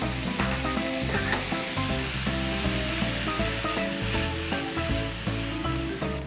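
Fresh tomatoes hit a hot pan with crispy garlic and sizzle loudly, a steady close frying hiss with some stirring, while music plays underneath.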